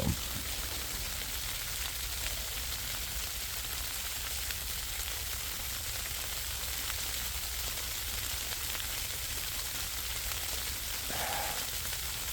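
Rain patters steadily on the fabric of a Naturehike Massif hot tent overnight, a dense, even hiss close around the listener, with no voices.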